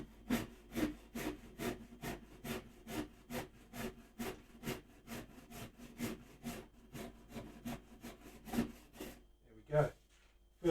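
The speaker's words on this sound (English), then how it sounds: "Very light work of it. This rasp is awesome." A hand rasp shaping a wooden guitar neck, a steady series of rough, rhythmic scraping strokes about twice a second, close and fairly quiet, ending with a short clatter.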